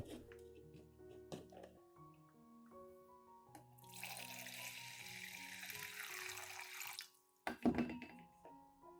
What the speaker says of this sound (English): Finally, add a little clean water to the tray below.